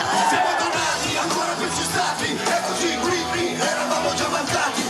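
About 10,000 fans at a Villa Bellini concert yell in a loud, continuous roar with whoops rising above it, and no speech over the noise.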